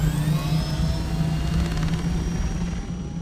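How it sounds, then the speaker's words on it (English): Helicopter engine in the video game Dune: Awakening, a loud steady rotor drone with a whining tone that holds throughout, no voices. "the helicopters are a little on the loud side"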